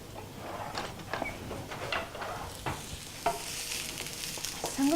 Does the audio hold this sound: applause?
no